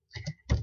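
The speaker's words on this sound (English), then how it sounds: "So you can start typing your notes here." A few quick keystrokes on a computer keyboard while typing notes, close and quiet, with a short pause between two clusters of taps.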